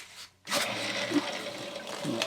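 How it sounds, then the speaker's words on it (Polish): Cold water rushing from a just-opened valve into a new 50-litre boiler, a steady broadband hiss of flowing water that starts abruptly and continues at an even level. "No i tutaj mam zawór od wody zimnej, więc popłynie teraz woda."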